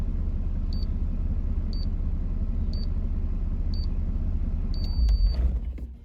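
Car engine idling with a steady low rumble while a turbo timer counts down with regular beeps about once a second, then a longer tone and the engine cuts off, the rumble dying away.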